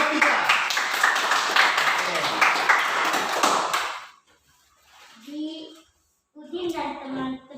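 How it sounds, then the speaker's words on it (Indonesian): Classroom applause for a student group, a dense burst of many hands clapping for about four seconds, then quieter voices of children and a teacher talking. "tepuk tangan dulu untuk kelompok 3"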